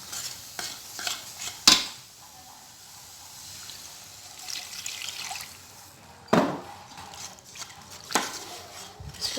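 A spoon stirs milk into a cooking mixture, giving faint wet swishing with a few sharp clinks of metal against the pot, and no talk.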